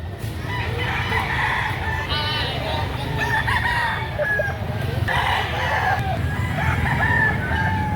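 Roosters crow and hens cluck at a busy chicken market where bull stags are sold, several overlapping calls over a constant low crowd rumble and murmuring voices.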